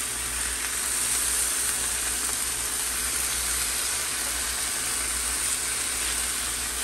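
Chicken sizzles on a BBQ grill just after being flipped, a steady, fairly loud broadband frying hiss that holds evenly for the whole stretch with no talking.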